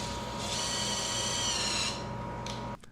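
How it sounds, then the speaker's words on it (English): A handheld power drill whines steadily at close range with a high motor pitch for a couple of seconds, then winds down. The sound cuts off abruptly near the end. "So then I got a real drill for grown-ups."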